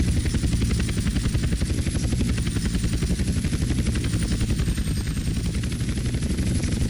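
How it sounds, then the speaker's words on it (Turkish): Aircraft engine drone from a plane coming in to land in GTA San Andreas Remastered, a steady, loud, dense rumble with rapid pulsing that holds unbroken throughout, no voices. "Yani sanıyorum ki uçağı indiriyoruz."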